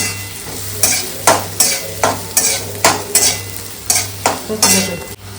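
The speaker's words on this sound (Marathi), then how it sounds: "कांदा हा छान लालचा रंग परतवायचा आहे" Onion sautés in a pan as a spatula stirs it in a steady rhythm of loud, close scraping strokes about every half second over a continuous sizzle and low hum.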